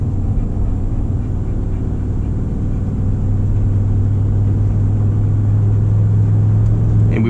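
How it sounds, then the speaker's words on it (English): A 2019 Ram 1500 pickup with a 5.7L HEMI V8, towing a trailer uphill, drones with a steady, heavy low engine rumble as it accelerates hard, heard from inside the cab with no talk. "I am gonna goose it or floor it just so you guys can have some of the pickup acceleration"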